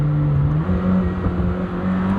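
A Lamborghini Temerario's 10,000 RPM V8 revs in a continuous, loud, close, buzzing engine drone whose pitch holds and then steps up slightly as it accelerates.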